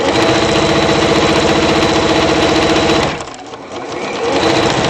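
A loud, close sewing machine rattles steadily through quilted fabric and interfacing for a waistband, then stops abruptly, leaving only a soft hum.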